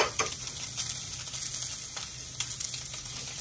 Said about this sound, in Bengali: এই জন্য ব্রোকলি অল্প শ্যালো ফ্রাই করে ব্রোকলি খাবেন